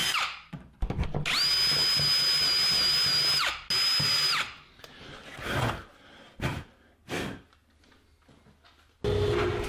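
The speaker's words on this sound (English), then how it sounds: "it would have been simpler to drill all the pins for the shelves before assembling the frame" A power drill bores shelf pin holes through a Rockler shelf pin jig in a wooden library shelf, several close, loud whining bursts of varying length separated by pauses and handling clatter.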